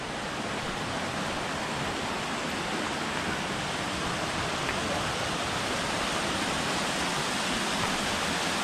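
Water from a river spills across a forest trail in Gifford Pinchot National Forest, producing a steady, even roar of rushing flow that holds at the same level throughout.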